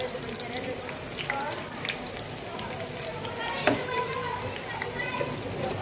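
Chicken fried noodles frying in a pan over a turned-up flame, a steady close sizzle and crackle with scattered pops and one sharper clack, running under a voice talking throughout.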